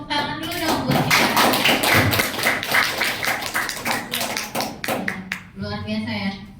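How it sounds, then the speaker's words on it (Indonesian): An audience claps at the close of a presentation on positive culture, uneven taps and thuds with a voice speaking over parts of it. "Kita tepuk tangan dulu dong buat kita."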